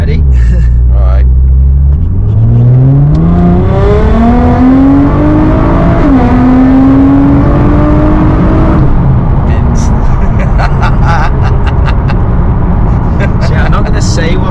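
Stage 4 Nissan GT-R R35 at about 650 bhp, accelerating hard in low boost mode; a loud, close engine roar climbs steadily through several gear changes before a brief lift, with wind rumble filling the cabin.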